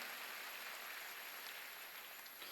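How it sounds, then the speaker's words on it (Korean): A church congregation applauds during a Sunday worship service, a sustained, even wash of many hands clapping at low volume with no gaps. "박수로 하나님께 영광을 돌려야죠"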